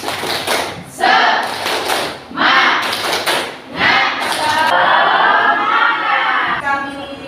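A class performs a rhythmic spirit clap in bursts of patterned group clapping, loud and close, with voices chanting along between the clap sequences.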